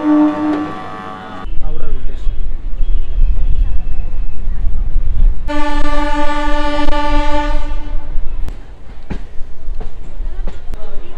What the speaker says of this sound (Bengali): চলো এখন কিন্তু 1 নম্বর প্ল্যাটফর্মে কিন্তু ট্রেন ঢুকবে, আরামবাগ থেকে আসছে হাওড়া লোকাল